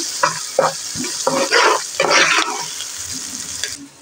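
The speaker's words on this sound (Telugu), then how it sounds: "ఇవి మొత్తం దూరగా వేయించుకోవాలండి పచ్చివాసన పోయేంత వరకు కరిగిపోయాయండి" Ginger-garlic paste and curry ingredients for an amaranth leaf curry frying in a pan, with close, loud sizzling and a series of scraping stirs of a spoon against the pan.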